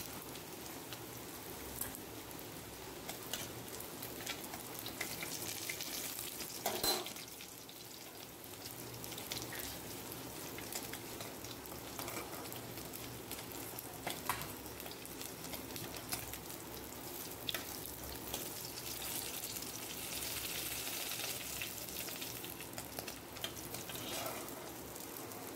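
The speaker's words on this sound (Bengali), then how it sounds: "দেখতেই পাচ্ছেন মাছগুলোকে লাল লাল করে ভেজে নিয়েছি।" Large fish pieces frying in oil in a kadai give a faint, steady, rain-like sizzle with fine crackling that carries on evenly throughout, with no voices over it.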